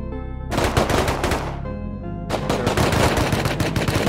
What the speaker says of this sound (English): that is an AK-47